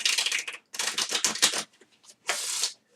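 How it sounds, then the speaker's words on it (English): A deck of playing cards is riffled and shuffled by hand during a street magic show, giving bursts of crisp, rapid flutter close up, with a short pause between runs and no table beneath. "I'm actually going to shuffle these up a little bit more"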